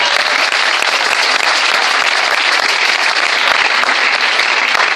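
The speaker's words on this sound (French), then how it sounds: "Est-ce que nous pouvons applaudir le Seigneur?" A church congregation claps loudly and continuously, dense applause filling the whole moment with no talking over it.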